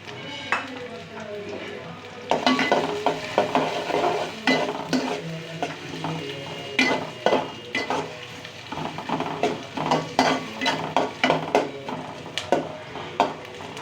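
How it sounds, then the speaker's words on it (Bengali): Chopped onions fry in hot oil in a pot while a spoon stirs them in repeated scraping strokes over a steady sizzle, with occasional clinks of metal on the pan. "তেল গরম হলে এর মধ্যে দিয়ে দিব পেঁয়াজ কুচি।"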